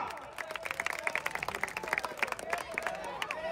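Spectators at a wrestling bout clap in quick, dense bursts, steady and fairly close, while a commentator talks over the crowd.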